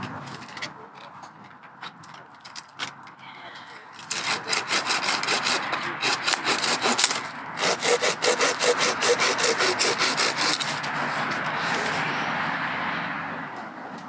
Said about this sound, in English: You notice when I started sawing, it popped right apart.